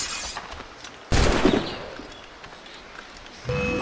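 Gunfire in the Assassin's Creed Rogue video game: one loud, sharp burst of shots with a long decaying rumble, then quieter ambience and a second swell near the end.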